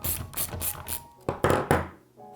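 Tools working loose long, tight axle bolts on a Pure Air electric scooter, a run of close ratcheting clicks followed by a few heavier knocks and clunks.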